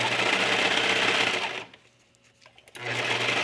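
A serger sewing machine stitching and trimming the edge of a garment with lace, whirring loudly and close, stopping for about a second, then running again at the same pace.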